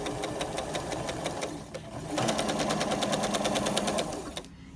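A sewing machine stitches quilt binding in a steady, fast mechanical chatter with a brief pause, then keeps running and stops near the end.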